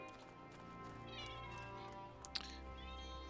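Cat meowing inside a video game storehouse, faint and partly buried under a steady droning music bed, with a brief sharp click near the end.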